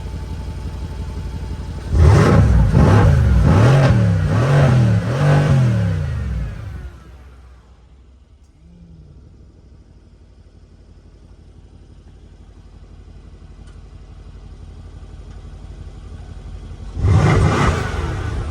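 A Mercedes-Benz C63 AMG sold at auction with frame damage, revving hard several times in a row with loud, throaty engine bursts, then dropping to a quiet idle before one more rev at the end.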